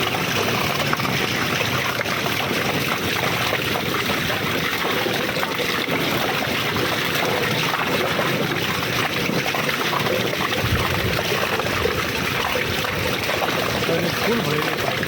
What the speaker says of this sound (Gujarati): પાણી અંદર જઈ રહ્યું છે।